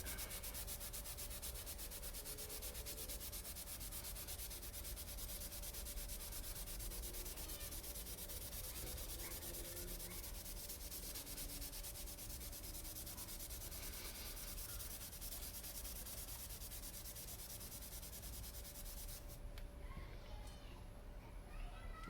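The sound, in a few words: sanding rusty brake lines with a 60 grit sanding pad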